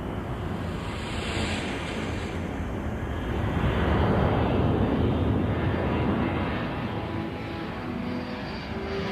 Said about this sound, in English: A C-141 lifts off from Thule Air Force Base.